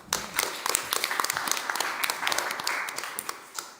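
Audience clapping at a community gathering, a brisk patter of individual claps that is fairly close and steady for a few seconds, with no talking.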